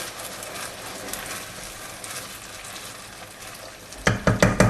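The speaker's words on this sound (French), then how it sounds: "Là, on remue un peu." Tomato sauce being stirred in a pan, with a steady low sizzle throughout and a few sharper scraping, clattering strokes of the spoon near the end.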